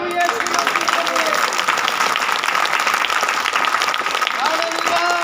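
A church congregation claps together in loud, sustained applause, a dense and even patter that keeps up without a break across the whole stretch.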